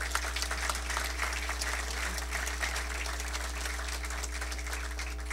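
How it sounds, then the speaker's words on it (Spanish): Audience applause at an engineers' ceremony, a steady wash of clapping over a low constant hum, sustained for several seconds without pause. "Aplausos."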